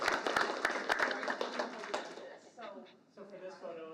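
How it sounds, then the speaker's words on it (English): Round of applause at a school board meeting, a burst of scattered hand claps in a room for about two seconds before dying out into murmuring voices and talk. "One more round of applause"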